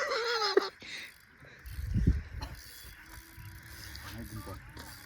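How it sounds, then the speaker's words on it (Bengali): Fishing reel wound in and tightened while fishing at Nilnirjan dam: close mechanical ratcheting and clicking in short bursts, with voices and outdoor background around it. "আস্তে গুটাও, টাইট করো।"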